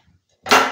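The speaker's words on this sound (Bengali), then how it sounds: "গ্যাস অন করা হলো।" A kitchen gas stove lights with a sharp igniter crack, followed at once by a brief, loud flaring whoosh that fades quickly, with no other sound around it.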